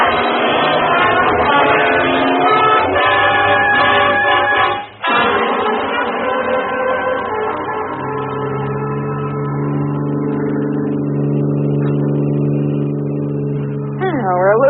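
Getaway car in a radio drama, engine revving hard and roaring away, a loud, steady motor drone that drops briefly midway and then settles into a lower, sustained hum as the car speeds off.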